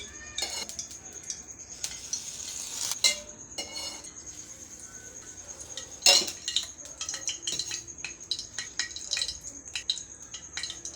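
Kadai pan being set onto a home kitchen stove, with metal pots and utensils clinking and clattering in a string of sharp, close knocks over a low background hum, no talking.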